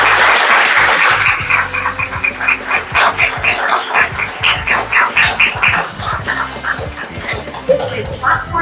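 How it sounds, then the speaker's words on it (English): Graduates receive a round of applause from the audience at a Gavel Club graduation ceremony, a steady mass of clapping and cheering lasting several seconds, mixed with high yips and squeals and some voices. "Let's hear a huge round of applause for all of you"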